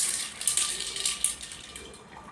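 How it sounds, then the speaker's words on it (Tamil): Water from a bowl poured into a new fish tank at home, a steady bright splashing gush lasting a couple of seconds with small bubbly spikes, close and fairly loud, no voices. "தண்ணி ஊற்றிடலாம்."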